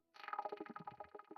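Guitar run through the Terra Echo delay of a Boss ME-90 multi-effects unit, giving a rain-like sprinkling: rapid scattered repeating note fragments that shimmer and overlap, quiet and close, with no voice.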